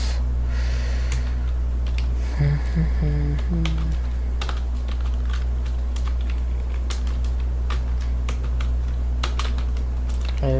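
Keys clatter softly as C++ code is typed on a computer keyboard, irregular clicks spread across the stretch over a steady electrical hum, with brief breathy sounds near the start.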